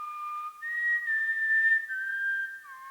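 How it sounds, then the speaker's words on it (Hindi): A person whistles long, steady sustained notes in a TV crime drama scene, one clear tone gliding between pitches with brief breaks, fairly loud and alone without speech. "तुम ये सीटी क्यों बजा रहे हो?"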